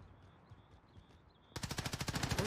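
Rapid automatic gunfire erupts in a Search and Destroy match of a video game, a loud continuous burst of evenly spaced shots starting suddenly after a stretch of quiet ambience.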